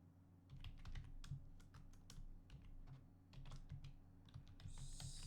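Computer keyboard typing, steady irregular clicks of keys close by and fairly quiet over a low hum, with no talking.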